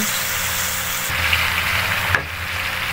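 Milkfish pieces frying in hot cooking oil for a fish afritada, giving a steady, loud, close sizzle throughout with a brief crackling pop near the end.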